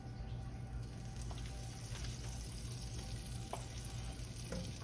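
Butter melting in a hot skillet gives a steady, close sizzle and fry hiss, with a few faint clicks of utensils against the pan and no talking.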